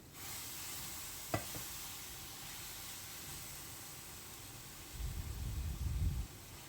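Peanut barfi mixture cooking in a dry pan: a soft, steady sizzle with one sharp clink of a utensil early on and a louder burst of stirring and scraping near the end.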